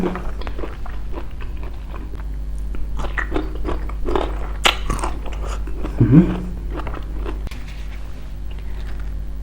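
Spicy raw shrimp papaya salad being eaten up close, with steady crunchy biting and wet chewing repeating throughout and no talking.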